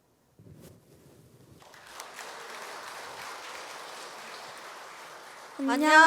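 At a memorial ceremony, audience applause builds from a quiet start into steady, sustained clapping before a folk-song performance, ending as a voice begins over it.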